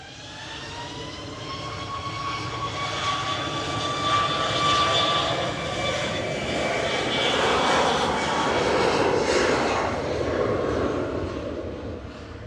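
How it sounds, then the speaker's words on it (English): Boeing 737 MAX 8 jet engines at an airport, a sustained loud roar with layered whining tones that swell and shift over several seconds, heard close and alone. "This is a 737 MAX 8."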